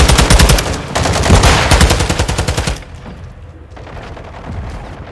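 Sustained automatic fire from a TAQ-56 rifle in the video game Modern Warfare 2, a loud, fast stream of rounds for nearly three seconds followed by quieter, distant game noise.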